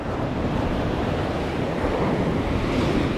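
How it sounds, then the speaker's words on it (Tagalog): Ocean waves surge and break near a small fishing boat at sea: a dense, continuous loud rush of water mixed with buffeting wind noise on the microphone, with no voices. "baka abutin ng alon yun"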